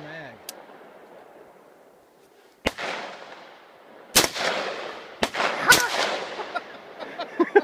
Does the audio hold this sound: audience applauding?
no